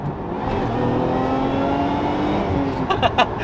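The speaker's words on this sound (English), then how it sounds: "it's definitely a bit louder just cruising along on the motorway in tour mode" A Lotus Emira's steady Milltek exhaust drone fills the cabin while cruising on a motorway in tour mode, with a constant road roar and a few brief rustles near the end.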